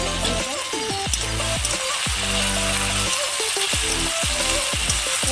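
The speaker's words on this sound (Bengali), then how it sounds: "তেলটা গরম হয়ে গেছে, এর মধ্যে আলুগুলো দিয়ে দেবো" Potato pieces fry in hot oil with salt in a Bengali kitchen, making a continuous loud sizzle over strong tonal background music.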